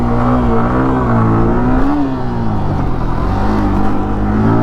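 A Yamaha R15 V3 motorcycle engine revs loud and close without a break, its pitch rising and falling slightly as the throttle is worked to lift a wheelie.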